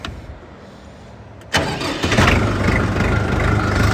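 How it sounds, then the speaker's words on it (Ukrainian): A Jinma 404 tractor's KM495 diesel engine cranks and catches with a sudden burst, then settles into a steady low diesel rumble at idle, close by and fairly loud. "Зараз вам заведемо, послухайте, як працює джинма 404 з мотором КМ 495"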